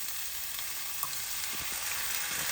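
A 400 g tin of chopped tomatoes hits a hot pan for shakshuka, producing a steady loud sizzle with light stirring clicks.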